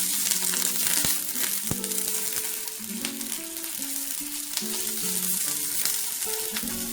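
Sliced Vidalia sweet onion sizzles steadily alongside asparagus in a hot stovetop pan, a loud continuous frying hiss with occasional stirring clicks and no talking.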